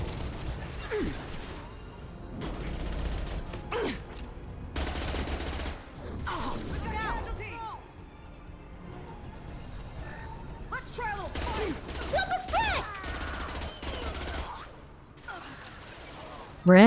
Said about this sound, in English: We're shooting him and setting him on fire at the same time.